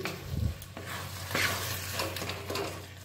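Mashed vorta with chopped coriander and a pinch of sugar being stirred and mixed in a pan, with a steady close scraping and soft sizzle, louder strokes near the start and no talking.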